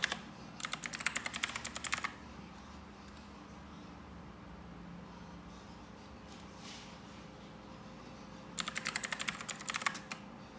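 Keys clatter on a computer keyboard as a password is typed, a quick burst at the start and another near the end, with a quiet hum in between.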